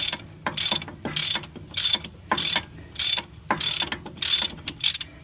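A hand ratchet works loose the fill plug on a BMW X5 E70 front differential, giving about ten quick, loud clicking strokes in an even rhythm, close by, with no voices.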